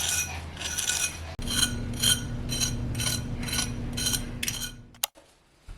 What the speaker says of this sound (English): getting chicken thighs with a crispy skin that sounds